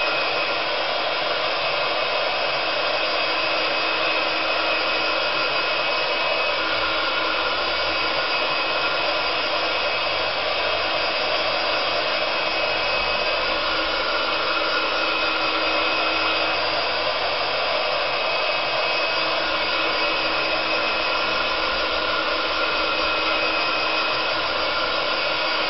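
A hair dryer blows steadily on a drying craft project, a loud, constant close-up roar lasting the whole stretch without pauses or voices.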